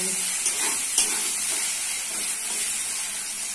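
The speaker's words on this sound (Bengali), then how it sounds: "দিচ্ছি আদা রসুন বাটা। ভালো করে আদা রসুন বাটাটা ভেজে" Ginger garlic paste hisses loudly in hot oil over fried chopped onion, a dense, even sizzle heard close with a few soft stirring knocks near the start.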